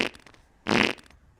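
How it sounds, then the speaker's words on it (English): Fart sound sample played back from a keyboard, a short soft burst followed by one loud, buzzy, sputtering blast about a quarter second long, alone with no voices. "I've taken that fart sample and put it on the keyboard"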